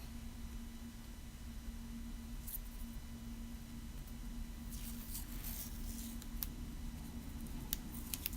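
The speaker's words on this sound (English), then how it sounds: "I'll just take a bit of washi tape" Washi tape being torn and handled for masking a painted background, a few sharp crackling rips and taps standing out, faint and close, over a steady low hum.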